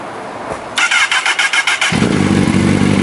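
Honda CBR motorcycle started in neutral without the clutch: about a second of quiet, then a rapid, loud pulsing starter crank that catches into a steady, throbbing idle, close and with no talk.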